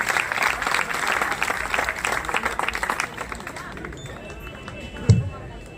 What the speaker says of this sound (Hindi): समय के अभाव को देखते हुए जोरदार तालियों से अभिनंदन और स्वागत